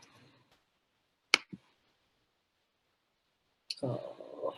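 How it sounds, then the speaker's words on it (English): A computer mouse gives a couple of sharp, isolated clicks in a quiet room, close and brief, with a voice speaking before and after. "And I click on next."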